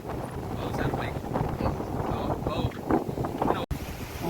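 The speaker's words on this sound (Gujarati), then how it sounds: "પવન બહુ આવે, હવા બહુ આવે એટલે સંભળાય નહીં બહુ" Strong wind buffeting an outdoor microphone, a continuous loud rumbling roar with gusty surges throughout, briefly cutting out near the end.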